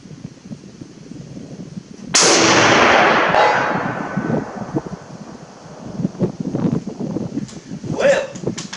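A Springfield M1903A1 rifle with Unertl scope fires a single sharp, loud shot that rings and decays over a second or two, with someone talking quietly before and after.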